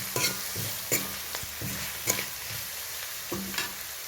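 Onions with curry leaves and salt stir-fry in a pan, a low steady sizzle punctuated by repeated spoon scrapes and taps at a loose rhythm, close and alone.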